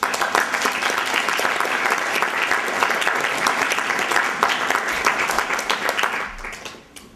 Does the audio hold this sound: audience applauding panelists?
yes